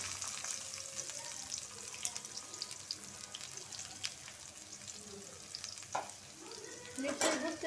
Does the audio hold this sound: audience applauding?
no